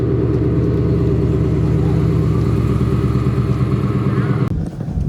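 A Ford Mustang GT with a twin-turbo kit running 5 PSI of boost on stock tires drones loudly and steadily up close on a test drive, then cuts off sharply near the end.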